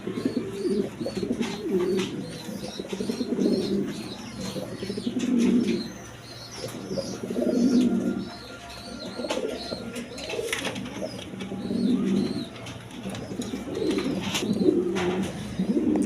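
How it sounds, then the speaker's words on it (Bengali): A pair of fancy pigeons coo nearby in a steady series of soft, throaty, rolling calls that repeat every couple of seconds, with a faint higher chirp now and then and no talking. "এইখানে এক পেয়ার শৌখিন কবুতর আছে"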